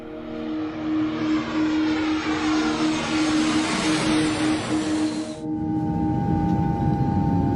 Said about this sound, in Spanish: El vuelo 201 de Copa Airlines despegó hacia Cali, Colombia.